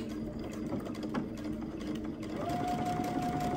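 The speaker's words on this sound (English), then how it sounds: "So then you just start sewing" A sewing machine fitted with a Baby Lock binding foot stitches binding onto fabric, a steady, quiet motor hum running through the clip alongside faint background noise.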